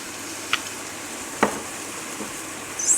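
Shallots frying in chorizo oil in a pan: a soft, steady sizzle with a couple of brief stirring clicks and scrapes, quiet and close with no talking.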